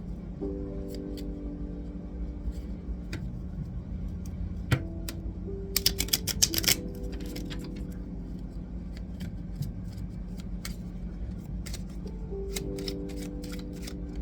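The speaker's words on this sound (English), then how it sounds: "let me shuffle this" Tarot cards being shuffled, with brief crisp riffling bursts in the middle over a steady background hum and scattered light taps, close and fairly quiet.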